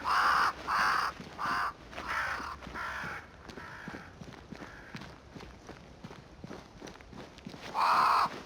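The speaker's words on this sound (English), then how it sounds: "Crows." Crows caw repeatedly in the dark fantasy game Banishers: Ghosts of New Eden, a run of harsh rhythmic calls at the start and again at the end, with scuffing footsteps and faint game ambience between them.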